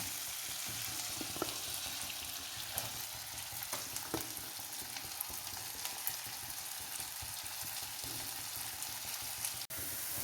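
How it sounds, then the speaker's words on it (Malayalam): Sliced onions sizzle steadily in butter with chicken pieces for a butter chicken dish, a dense, even crackle with occasional sharper pops and spatula scrapes, with no talking. "ഇനി നമുക്ക് സവോള ഇട്ട് കൊടുക്കാം."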